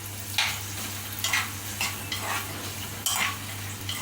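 Chopped vegetables, including potatoes and carrots, fry in a pan for a cowpea bean curry, with a soft sizzle under a low hum and several distinct scraping stirs spaced about a second apart.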